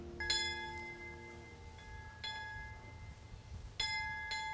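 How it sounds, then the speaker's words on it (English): A bell in a house's bell tower in Connecticut rings out in several separate strikes, each leaving a bright ringing tone that hangs and fades, with some low background hum underneath. "you hear that bell?"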